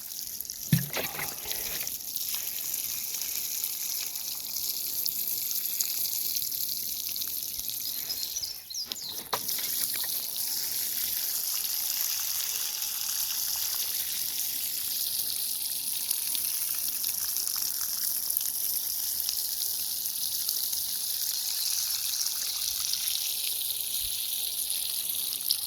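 Water trickles steadily into a soil berm around the roots of a butterfly bush, a continuous soft watery hiss and gurgle lasting throughout, close by and alone with faint outdoor ambience.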